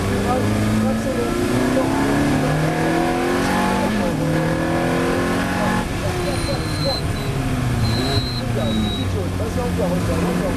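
A Ferrari F430 Challenge race car accelerates hard on a track, its engine loud and close with rising harmonics through repeated gear changes. Someone talks steadily over the engine noise throughout.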